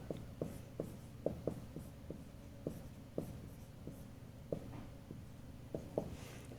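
Chalk or marker tapping and scraping on a board during a physics lecture, a steady run of short, sharp strokes in an irregular rhythm over a constant room hum, with no talking.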